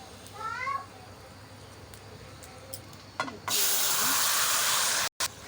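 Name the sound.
nigella seeds tempering, sautéing in hot oil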